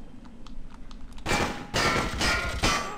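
Troops fire guns in the video game Freedom Fighters, starting with light rapid tapping and then breaking into loud bursts of automatic gunfire in several heavy waves.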